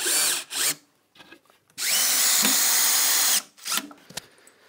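Power drill driving screws into pre-drilled pilot holes in simple Japanese-style wood furniture: short whirring bursts, then one long sustained run of about one and a half seconds, followed by a few brief pulses, loud and close.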